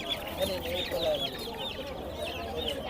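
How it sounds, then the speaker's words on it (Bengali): Chickens and roosters of various ages and sizes cluck and squawk in a dense, nearby chorus at a Khulna poultry and pigeon market, with faint voices in the background. "বিভিন্ন বয়সের বিভিন্ন সাইজের মুরগিগুলা কিন্তু এখানে মোরগ মুরগি সব আছে"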